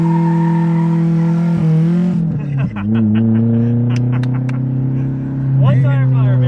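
A Nissan S13 doing a one-tire burnout, its engine holding a loud steady drone with rising revs, and the single spinning tire squealing close by while people talk over it.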